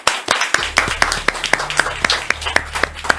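Brief burst of applause for a contestant on a French-language quiz show, with scattered claps in a quick, uneven rhythm, fairly close and steady, over a low background hum.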